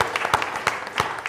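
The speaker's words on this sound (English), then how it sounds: "Give yourselves a big, big round of applause." An audience claps for a one-year anniversary gathering at an indoor event, a short burst of dense, irregular applause with overlapping hand claps at a fairly close, even level.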